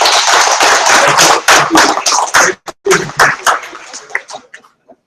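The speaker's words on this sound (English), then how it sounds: "please, let's give us one more round of applause for." Applause for a guest named Mike at a university colloquium, a brisk burst of fairly close hand claps that thins into a few scattered claps and dies away after about four seconds.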